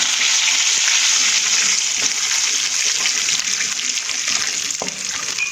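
Curry leaves are dropped into hot oil already holding asafoetida for upma, giving a loud, steady sizzle and crackle of frying that continues throughout with a faint clink near the end.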